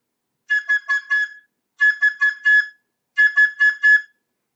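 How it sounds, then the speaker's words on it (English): A roller derby referee's whistle signals the end of a jam with three evenly spaced sets of four rapid, shrill blasts, clear and close against silence. "at the conclusion of the jam is the jam ending whistle"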